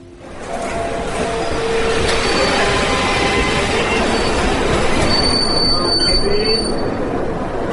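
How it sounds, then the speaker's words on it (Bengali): A train pulls into a station with a loud, steady rumble and sustained high metallic wheel squeals that rise over the roar, the noise close and continuous for several seconds. "ট্রেন এলো 10 মিনিট লেটে।"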